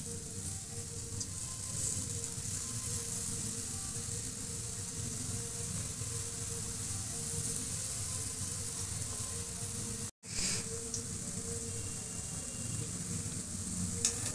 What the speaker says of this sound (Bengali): আমি আবার সব ভেজে নিচ্ছি